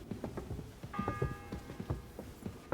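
A church bell in Kingdom Come: Deliverance II tolls the seventh hour with a faint ringing tone among soft, uneven clicks and taps in the background.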